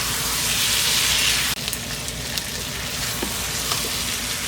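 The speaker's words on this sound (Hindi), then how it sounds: "अच्छी तरह से भूनेंगे" Chicken korma masala frying in a pot, a steady loud sizzle that drops suddenly partway through into a quieter, crackling simmer with small pops.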